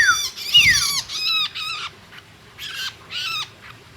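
A tame Javan shrike (cendet) from West Java gives a run of sharp, harsh calls with quick downward-sweeping notes, close by and loud, in short bursts separated by brief pauses.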